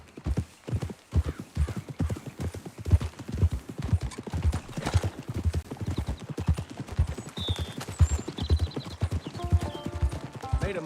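Horse hooves clip-clop at a steady, rapid gait while riding in Red Dead Redemption 2, close and prominent throughout, with tack jingling and brief whinnies, and someone speaking softly over the galloping.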